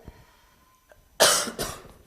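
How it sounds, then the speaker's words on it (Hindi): A man coughs twice in quick succession, loud and close, after a short quiet pause, with a teacher's classroom chemistry lesson setting around it. "यार खांसी बहुत आ रही है।"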